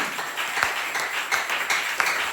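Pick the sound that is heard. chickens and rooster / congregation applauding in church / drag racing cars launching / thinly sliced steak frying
congregation applauding in church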